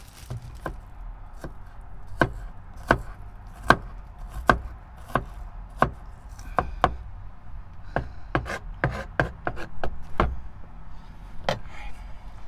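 A knife chops onion on a board during stealth cooking while truck camping, a series of crisp separate knocks at an irregular pace, some quick clusters, close and clear with no one talking.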